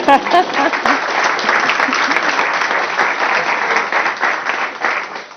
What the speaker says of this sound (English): ask you for all applause for Anna